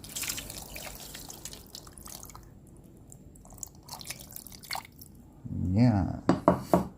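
Water poured into a cooking pot to make soup broth in a home kitchen, a loud splashing gush arriving near the end after quieter stretches where a person talks.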